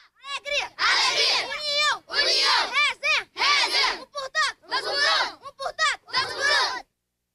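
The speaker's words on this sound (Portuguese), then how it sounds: "os jogadores cantam o grito de guerra que dá incentivo a esses grandes talentos" Young football players chant their war cry together outdoors in loud, rhythmic bursts of shouted children's voices with short pauses between phrases, carrying on for several seconds before stopping abruptly.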